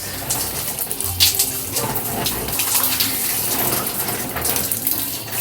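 Running water pours steadily over waist-length hair being rinsed out, a continuous close splashing rush with small irregular spatters, no talking.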